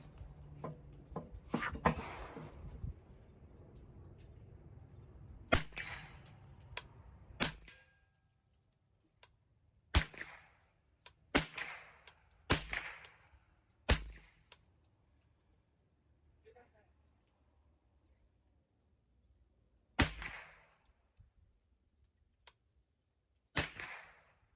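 Gunshots ring out at a shooting range aimed at steel and paper targets, sharp loud reports fired singly and in irregular bursts with quiet gaps between, some cracks trailing a short echo.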